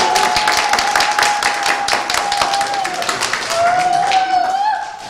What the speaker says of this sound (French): Donnez-moi encore les applaudissements.